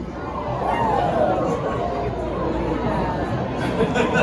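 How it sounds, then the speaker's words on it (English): Zoo show audience at an Animal Kingdom bird demonstration calling out a sustained, rising and falling woo as an owl glides silently overhead, a steady crowd murmur with chatter underneath. "the crowd went woo all the way across"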